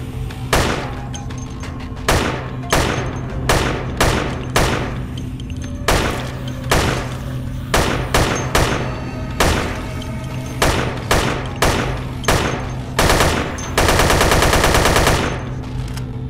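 Video game gunfire in Dead Effect, loud repeated bursts of shots at an irregular rhythm with a steady hum underneath, ending in a sustained rapid burst, no talking.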